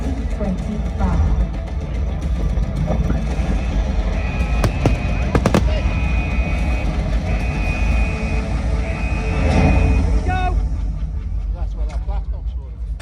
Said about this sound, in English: We hope you enjoyed the Ultimate Fireworks Spectacular.